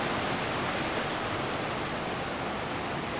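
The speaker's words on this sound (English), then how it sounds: "Yeah, this wind. Unbelievable." A strong windstorm in a backyard roars as a steady, dense, full-range rush with no gaps or talk, heavy and constant throughout.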